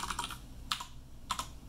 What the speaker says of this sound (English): if I just type in the first few characters and hit Tab